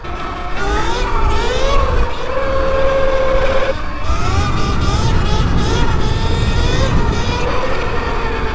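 A 72v Sur Ron BAC4000 electric dirt bike with a 64-tooth rear sprocket rides nearby, its motor whine rising and falling in shifting tones over steady road and wind rumble, with a brief voice under the drive.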